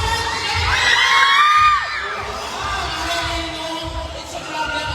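Crowd shouting and cheering at a municipal courtesy call to the mayor in Mambusao, a dense roar of voices with rising whoops that peaks early, then settles into a steady lively clamor.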